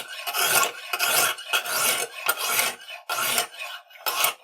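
Knife blade drawn repeatedly across a Lansky sharpening system's stone, close rasping strokes in an uneven rhythm of about eight passes with brief pauses between.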